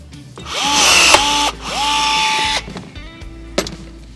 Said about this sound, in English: Take your second rivet, put it in the second hole. Fancy riv gun once again.